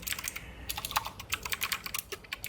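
Rapid typing on a computer keyboard to enter a search, a steady run of close, crisp key clicks heard alone.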